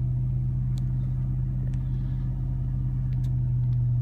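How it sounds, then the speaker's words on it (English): A car engine held at around 2000 rpm as a steady, loud, close low drone with a constant rumble, no one talking over it. "Rev this thing up,"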